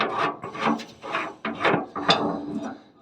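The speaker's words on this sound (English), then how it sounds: "Put a 13/16 spanner on there, loosen it off" A spanner works loose the drain plug on the fuel tank of a 1964 Jaguar Mk2, giving close, repeated rasping and scraping strokes in uneven bursts with no talking.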